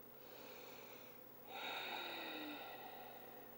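A slow, audible ujjayi yoga breath through the throat, a soft rushing hiss that swells into a louder, ocean-like exhale close up.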